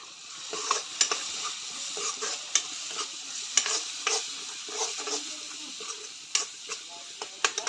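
Cumin and red chili fry in hot oil while a utensil stirs them, giving a soft, steady sizzle broken by frequent clicks and scrapes of the spoon against the pan.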